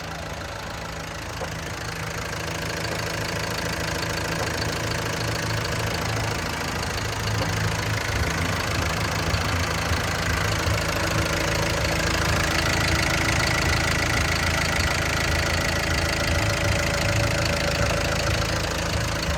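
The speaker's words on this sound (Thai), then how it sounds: "ครับเครื่องยนต์ทำงานเงียบจริงๆนะครับ" A Komatsu WA200-6 wheel loader's 4-cylinder turbo diesel engine, type 4D107, idles steadily at close range, a constant even rumble with no voices.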